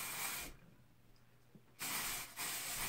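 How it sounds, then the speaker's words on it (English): Two bursts of dry shampoo aerosol spray hiss up close, one long and one shorter, separated by a quiet pause. "This dry spray will give you a soft matte texture."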